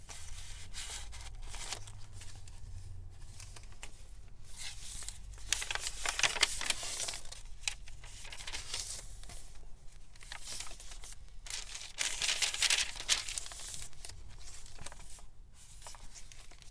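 Crinkling and rustling of a clear plastic envelope being handled and flipped inside a botanical journal, soft close handling noises with a few louder crackly bursts, no talking.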